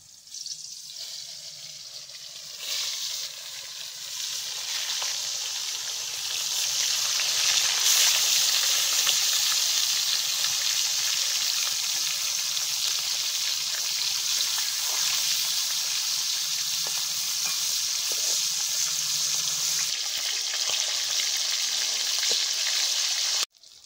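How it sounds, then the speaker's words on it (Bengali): Pieces of shol (snakehead) fish fry in hot oil in a kadai, giving a long, steady, bright hiss that builds slightly and holds, close by with no voices. "এক করে মাছগুলো দিয়ে দিচ্ছি।"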